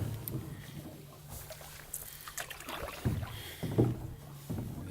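Quiet canoe paddle strokes dipping and pulling through a glassy calm lake at sunset, with soft splashes and drips at an unhurried pace and no talking.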